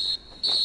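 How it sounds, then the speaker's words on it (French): Referee's whistle in an Inazuma Eleven anime soccer match, signalling the end of the first half: two shrill, steady blasts split by a short gap, loud and close with no talk. "l'arbitre siffle la fin de la première mi-temps"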